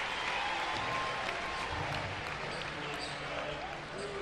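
A large crowd of over 11,000 at a college baseball game between Arkansas and Kansas State applauds steadily, a broad continuous wash of clapping and crowd noise at fairly even level throughout.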